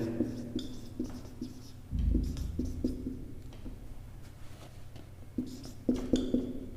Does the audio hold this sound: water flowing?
no